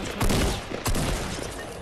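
Gunfire in the Fortnite video game comes as two quick loud bursts about half a second apart, each with a short crackling tail, over faint background game noise.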